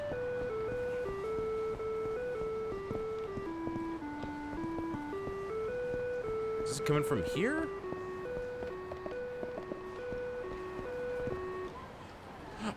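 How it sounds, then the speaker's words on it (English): A repeating electronic traffic signal chime from the video game Yakuza 3 plays a simple stepping melody in the street ambience, while someone speaks briefly over it. "Oh, that's the traffic signal I'm hearing."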